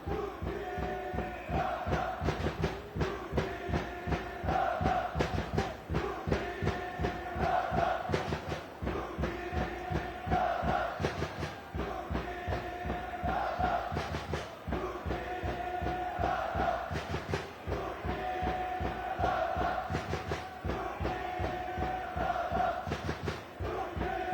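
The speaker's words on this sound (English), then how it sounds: "The crowd chanting, UT Ladakh," A crowd at an ice hockey match during the Khelo India Winter Games in Ladakh chants a rhythmic, repeated two-part cheer with claps, moderately distant and continuous.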